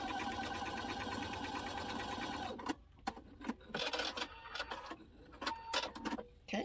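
A sewing machine runs a quick stitch on memory bear fabric, a fast steady mechanical whir for a couple of seconds, then stops, followed by scattered handling clicks and rustles nearby.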